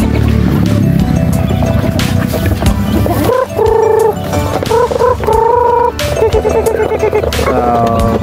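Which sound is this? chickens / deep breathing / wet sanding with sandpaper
chickens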